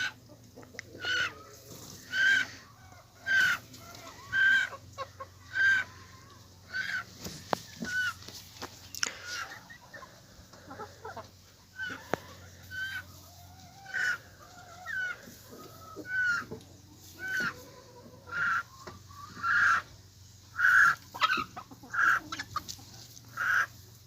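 Young chicken from a first brood in a large outdoor run, peeping repeatedly to call its mother hen and siblings, with soft clucking and quiet background talk.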